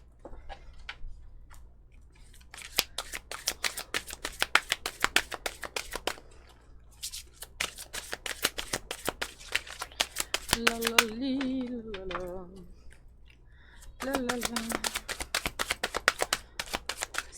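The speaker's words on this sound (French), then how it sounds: "Elles sont difficiles à mélanger." Tarot cards are shuffled over and over in dense runs of crisp riffling clicks and slaps, loud and close, broken by short pauses while a voice hums a few sung notes in the middle and near the end.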